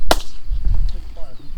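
A Civil War living history soldier fires a musket during file firing, giving one sharp, loud crack at the start, followed by faint rustling and distant outdoor noise.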